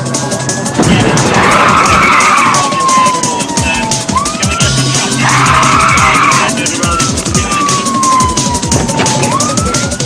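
Police car chase on a UK motorway: loud, close sirens wail and sweep up and down through the whole stretch, with tyres skidding and engines roaring beneath them and no one speaking.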